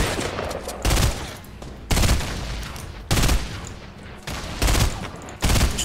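Rapid bursts of gunfire in the Fortnite Battle Royale video game, about six loud volleys spaced a second or so apart with quieter gaps between them.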